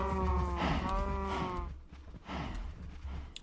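Cows in the Minecraft video game moo twice, long drawn-out lowing calls, the first louder and longer, the second after a short gap, with no talk.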